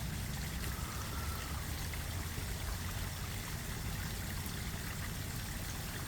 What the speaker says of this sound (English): This is a waterfall by Paws here in Norwalk.